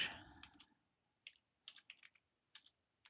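Typing on a computer keyboard while filling in an online form: a few quick close key clicks, then a brief pause and a spaced run of sharp taps.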